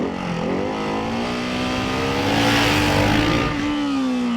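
A KTM 690 SMC R or Ducati 698 Mono supermoto holds a loud, close engine drone in first gear during a slow wheelie, the pitch climbing gradually and then easing.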